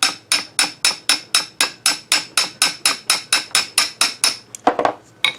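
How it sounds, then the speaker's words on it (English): Light metallic taps on the end of a lathe part ring out in a quick, even series of about twenty close, sharp strikes, then a few irregular knocks at the end. "Maybe I could tap lightly on the end of this and have the same kind of thing happen."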